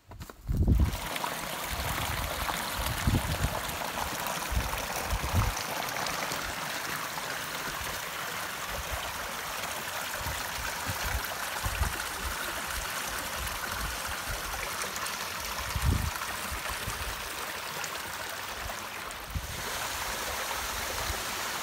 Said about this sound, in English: Really sounds like water.